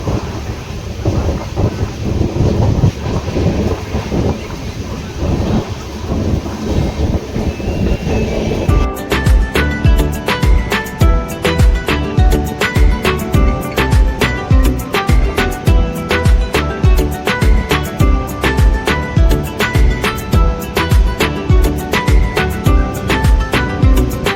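A train runs along the tracks near the railway station at Jalpur, Punjab. Its loud, close rumble turns into a steady, rapid clickety-clack of wheels over rail joints that continues throughout, with no talking.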